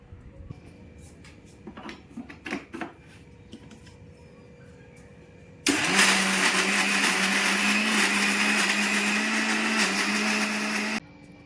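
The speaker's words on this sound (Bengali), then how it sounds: "এবার আমি মিক্সি বলে এটাকে বেটে নেব ভালো করে একটা মিহি পেস্ট" Mixer grinder blending cooled roasted spices into a fine paste: after a few quiet kitchen knocks, a loud steady whirring motor roars for about five seconds, then cuts off abruptly.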